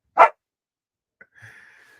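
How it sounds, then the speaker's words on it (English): Dogs barking indoors: one sharp, loud bark, then after a pause a fainter whine or yip that trails off, with no talk over it. "The dog. Mine are going nuts too."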